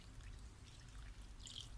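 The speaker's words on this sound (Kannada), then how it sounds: "ಈಗ ಇಲ್ಲಿ ಗ್ಲಾಸ್ನಲ್ಲಿ ನೀರು ಹಾಕೊಂಡಿದ್ದೀನಿ" Water pours from a glass into rava and gram flour (kadle hittu) dosa batter in a short, quiet trickle, with a brighter splash near the end.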